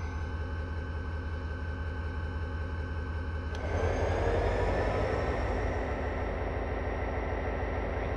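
A heavily loaded train in Train Simulator 2015 on a Bronx Yard transfer strains to get moving, a steady low mechanical drone that swells louder partway through and keeps rumbling.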